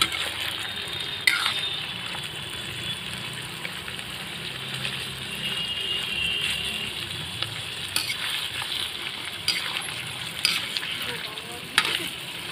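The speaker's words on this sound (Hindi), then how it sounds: "धीरे धीरे चला के इसे हम अच्छे से फ्राई कर लेते हैं।" Paneer frying in mustard oil for dhaba-style matar paneer, a continuous close sizzle with occasional spoon scrapes and knocks against the pan as it is slowly stirred, no talking.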